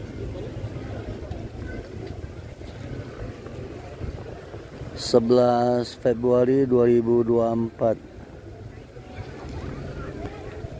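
The motor boat Kanro on Lake Toba rumbles steadily with wind noise, while a person talks over the engine in the middle.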